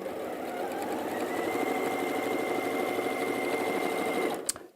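A sewing machine stitches fabric in a steady, continuous mechanical whir for about four seconds, then stops with a sharp click near the end.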